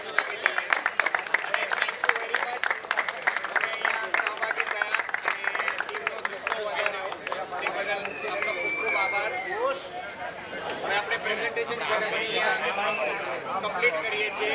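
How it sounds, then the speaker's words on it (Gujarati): Strong, sustained applause from a crowd at a Western Premier League prize distribution ceremony, honoring the visiting players; dense clapping fills the whole stretch with a murmur of voices beneath. "બહારથી બધા પ્લેયરો આવ્યા છે તેમના માટે એકવાર જોરદાર તાળીઓથી આપણે લગાવી લઈએ"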